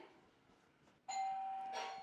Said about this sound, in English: I'm going to ring the doorbell again.